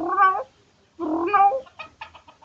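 A human voice imitates a cat, giving two drawn-out, wavering meows followed by a string of shorter, choppy mewing sounds, close and clear with no other talk.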